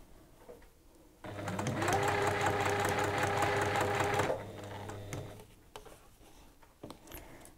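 A sewing machine stitches fabric in one steady run of about three seconds, whirring closely and evenly before stopping, followed by quiet handling clicks and fabric rustles.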